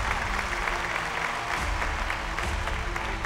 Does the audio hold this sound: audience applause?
yes